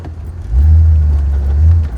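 A Chevrolet Impala drives along with a low engine rumble that swells after a brief moment, heavy close-up car and wind noise holding steady before easing slightly at the end.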